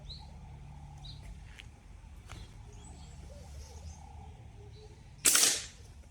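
A single slingshot shot is released toward a target, giving one sharp, loud snap near the end after quiet outdoor background with faint birds; no talking.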